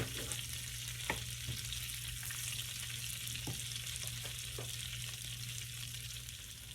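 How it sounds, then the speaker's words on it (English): Butter melting in a pan for Cajun salmon pasta gives a steady, fairly quiet sizzle and frying crackle throughout, with a few soft utensil clicks and no talk. "Okay guys, our butter has melted."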